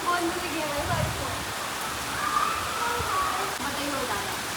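Steady rain falling outdoors, a continuous, even hiss of drops heard throughout, with people talking faintly in the background.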